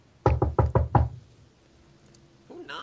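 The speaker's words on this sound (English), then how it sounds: "They're knocking." Five firm knocks on a door in quick succession, close and loud, followed by a faint voice and a brief scuffing sound, played as an effect during a tabletop roleplaying game.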